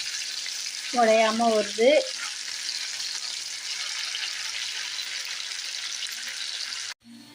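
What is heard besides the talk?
anchovy fish frying in a pan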